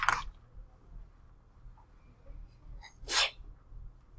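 Two short sneezes, one at the very start and another near the end, fairly close and loud against a quiet room with faint background noise.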